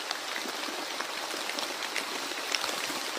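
Steady rain falling, a soft continuous patter with scattered sharper drops, fairly quiet and even throughout with no voices.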